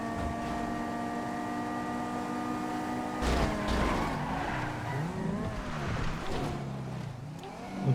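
Banshee GTS sports car in a GTA 5 race, its engine droning steadily, then tires squealing and skidding in a burst of sliding noise partway through.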